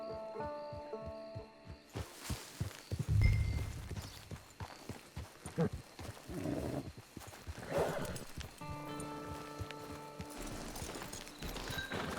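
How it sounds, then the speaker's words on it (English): Horse hooves clip-clop in Red Dead Redemption Online, a steady run of close, rhythmic hoofbeats with a snort or whinny along the way, set against low game music and ambience. "It's your horse."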